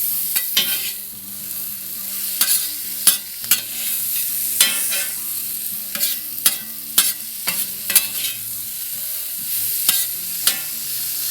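Sausage and peppers fry on a griddle plancha for cheesesteak sandwiches, a soft sizzle under repeated sharp scrapes and clacks of a spatula stirring and turning the food at an irregular pace.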